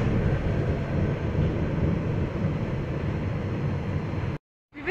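A tram rolls through Milan, a steady low rumble and hiss of the ride heard from inside, fairly faint and unbroken, cutting out abruptly near the end.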